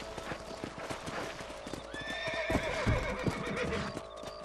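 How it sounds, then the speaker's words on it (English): Rapid clip-clop of horse hooves at a gallop in the video game Red Dead Redemption, with a horse whinnying partway through over a steady outdoor ambience. "Let's get back on the horses and see what else is going on"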